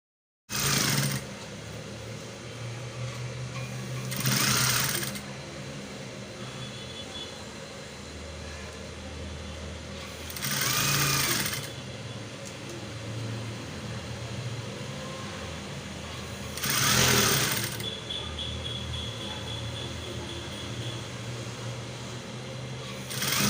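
A sewing machine joins the facing on a strapped playsuit, running as a steady mechanical hum. Four louder bursts come at roughly even intervals, and no one speaks.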